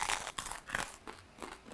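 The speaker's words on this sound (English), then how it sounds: "I'm gonna finish chewing now" Close, moist chewing of a crunchy high-protein vegan meal, with repeated crackly crunches in an uneven rhythm and no talking.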